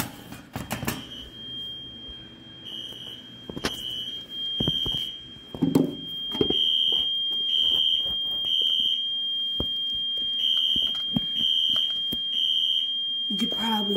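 A building fire alarm system sounding during a test, with rapid repeated high-pitched electronic beeps in short bursts, broken by clunks and handling knocks and some talk underneath.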